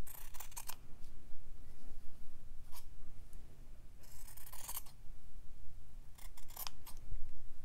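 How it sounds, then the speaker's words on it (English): Scissors snip through white-dotted fabric for a Christmas stitching ornament, several short crisp cutting bursts spaced apart with quiet pauses between, close and clear with no talking. "So I'll start by cutting that down to size."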